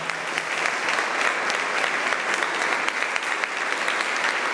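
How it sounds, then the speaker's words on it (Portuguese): A church congregation applauds in a sustained, dense wave of clapping that fills the room evenly throughout, loud and close, with faint voices mixed in. "Vamos aplaudir o Senhor por essa palavra."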